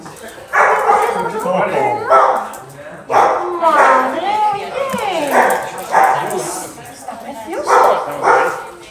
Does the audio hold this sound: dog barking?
yes